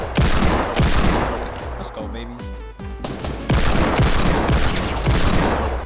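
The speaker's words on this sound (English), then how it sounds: "The shots aren't even registering." Gunfire in the video game Fortnite, fast bursts of assault-rifle and heavy shots cracking loudly in rapid volleys, with a short lull midway before the firing resumes, while someone talks excitedly over it.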